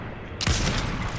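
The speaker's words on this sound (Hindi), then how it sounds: "इसका इधर पेड़ के पीछे बैठ जाओ गोलियां ठोकते रहो।" Gunfire bursts out in a Fortnite no-build match, an abrupt loud crack of shots followed by a rattling spray that lingers briefly over background game noise.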